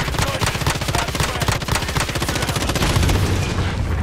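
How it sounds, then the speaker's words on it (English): Rapid gunfire in a multiplayer video game, a loud dense stream of evenly spaced shots rattling continuously without pause, with a heavier thump near the end. "We're getting sniped at."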